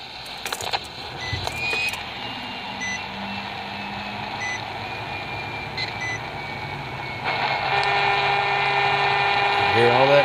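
Buzzing, whining radio interference from a car starting, picked up on a small Radio Shack pocket FM radio; steady hiss and tones swell louder partway through, with a rising whine at the end.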